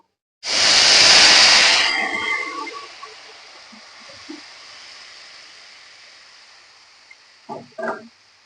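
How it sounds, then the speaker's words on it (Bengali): A loud burst of sizzling erupts as water lily stems are poured into a hot pan, then fades into a gentle crackle, with a few clinks near the end. "এখন এটার মধ্যে আমি এই শাপলাটাকে এর মধ্যে ঢেলে দেবো"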